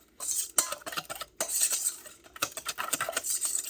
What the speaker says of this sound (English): we need to just whisk it to combine all of the ingredients